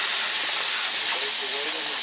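A pressure canner with a weighted gauge vents steam while canning meat, giving a loud, steady broadband hiss that continues unbroken throughout.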